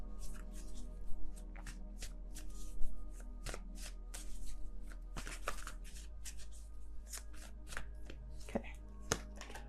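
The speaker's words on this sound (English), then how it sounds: "And then I'm going to set them down, one for each of these 8 cards." Tarot cards handled and laid out on a table in a reading, with a steady run of soft taps, shuffles and card slaps over a low constant hum, quiet and close.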